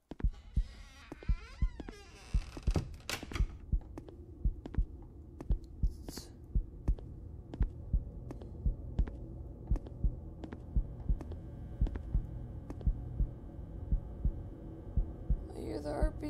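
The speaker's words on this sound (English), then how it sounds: "The heartbeat's getting closer." A rhythmic heartbeat from a horror video game, steady low thuds repeating about once a second throughout, with a faint hum underneath and brief other game noises.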